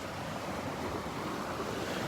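Ocean surf breaking on the beach at Delnor-Wiggins under an overcast sky, a steady, continuous wash of waves with some wind rumble, even and unbroken throughout.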